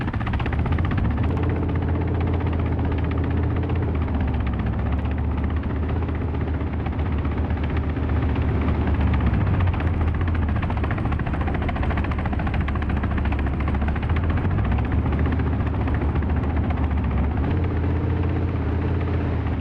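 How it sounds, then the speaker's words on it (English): A helicopter in a video game gives a continuous loud rotor drone with a heavy low thrum that holds steady throughout, with no voices. "I'm in a heli."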